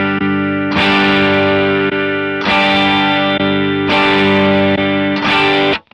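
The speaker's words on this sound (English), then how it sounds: "I can tell it's cutting out." Electric guitar played through a Boss EQ-200 graphic EQ pedal on a distortion preset, sustained loud chords that drop out abruptly between bursts, cutting out roughly every one and a half seconds with brief pops.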